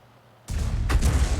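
Tank cannon fire in a World War II tank game involving an SU-8 and a Panzer III: a sudden loud boom followed by a second heavy blast with rumbling decay, close and without talk.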